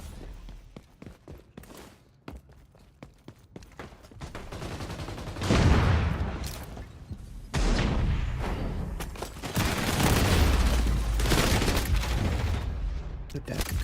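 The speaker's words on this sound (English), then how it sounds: "Did that grenade not kill him?" Gunfire and grenade explosions in the video game XDefiant: bursts of rapid shots, then heavy booming blasts midway and toward the end, loud and close, with a player talking at times.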